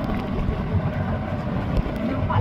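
Boats motoring on the open sea near Pulau Tioman, a steady low engine drone mixed with wind buffeting the microphone and water rush, continuous and fairly close.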